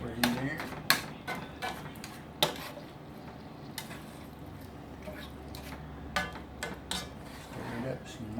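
A utensil stirs canned spinach and eggs in a pan, producing close, sharp clanks and scrapes at irregular intervals over a low, soft sizzle and squish, with some talking in the background.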